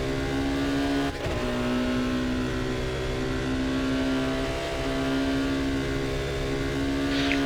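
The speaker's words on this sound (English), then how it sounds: "let's listen to the engine sound for now" A race car engine drones steadily at an endurance race at Magny-Cours, loud and close with a constant high whine and a brief shift or blip early on, no voices over it.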